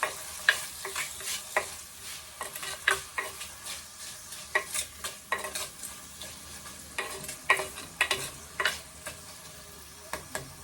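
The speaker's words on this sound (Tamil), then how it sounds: "எல்லாம் சேர்த்து நல்லா வதக்கலாம்." Fish curry ingredients sautéed with rock salt in a pan sizzle softly underneath while a utensil scrapes and stirs in frequent, irregular strokes, close by and moderately quiet.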